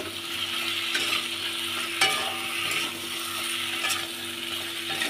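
Tomatoes frying in a pan for a fish-head and potato curry: a continuous close sizzle with scraping stirs and a sharp clink now and then, no voices.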